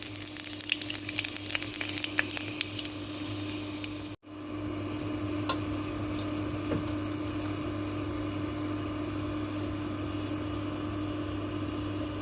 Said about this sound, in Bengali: এখন আমি পরিমাণ মতো পাঁচফোড়ন দিয়ে দেবো তেলের মধ্যে।